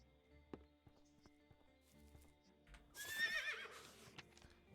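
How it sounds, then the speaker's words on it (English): A horse in the western video game Above Snakes gives a loud neigh after some faint hoof clops and quiet game ambience, the whinny rising then fading away. "Saddle up the horse."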